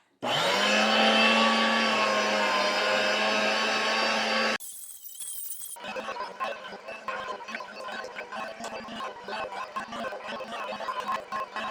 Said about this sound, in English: the little grinder did a pretty decent job there